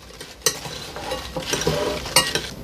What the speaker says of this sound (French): Je vais maintenant verser dessus mon huile aux épices et à l'ail. Je mélange.